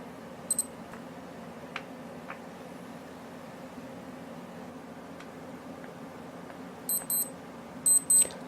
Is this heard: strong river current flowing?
no